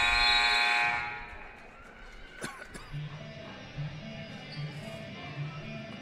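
A long, loud buzzer blares for about a second at the end of a quarter in a women's basketball game, then cuts off, leaving arena crowd noise and faint chatter.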